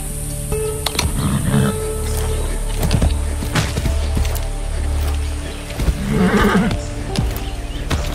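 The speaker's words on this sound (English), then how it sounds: "That's a good horse." A horse whinnies loudly a couple of times over a busy, dense soundscape of thuds and rumbling in the video game Far Cry 6.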